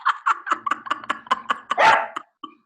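A dog barks repeatedly in a quick, uneven run of sharp yaps, close and fairly loud, ending in a longer whining yelp and then a short pause before one more bark.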